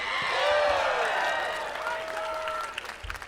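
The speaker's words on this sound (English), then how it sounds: "Can we give another round of applause" Steady applause from a concert audience at PAX East 2024, loud at first and gradually tapering, with some cheering and a voice briefly rising over the clapping near the end.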